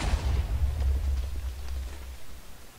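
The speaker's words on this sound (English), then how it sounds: "Oh no, it'll cause a huge explosion." A TNT explosion in the Minecraft video game gives a loud, deep boom whose low rumble fills the whole stretch and slowly fades, with no voices over it.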